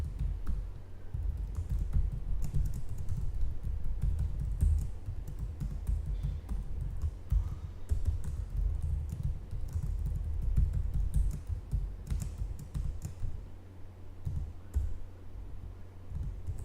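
Code typed steadily on a computer keyboard, close and continuous rapid key clicks with brief pauses, no talking.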